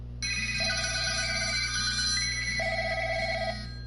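A phone ringtone rings twice in a repeating electronic melody, loud and close, with no talking over it.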